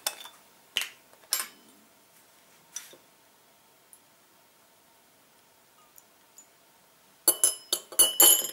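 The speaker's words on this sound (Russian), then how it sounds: "мы взяли 1 стакан холодной воды и теперь сюда добавляем чайную ложку уксуса" A teaspoon of vinegar is added to a glass of cold water, heard as a few sharp glassy clinks and taps of a spoon against the glass, spaced apart early on and then a quick cluster of clinks at the end.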